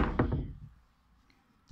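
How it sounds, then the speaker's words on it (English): The doors of a 2019 Stannah lift at Glasgow Queen Street station close with a heavy knock-like thud that fades into quiet, followed by a faint later bump. "Doors opening. Lift going up."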